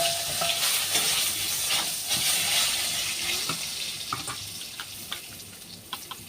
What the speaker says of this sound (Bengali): এবার এই তেলে বেগুনগুলোও ভালো করে ভেজে নেব।